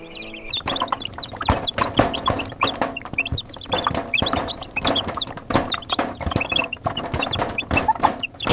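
Crowd of turkeys on a Minnesota turkey farm, raised in the hundreds: dense, continuous overlapping clucks and gobbling calls, close and loud, with no pauses.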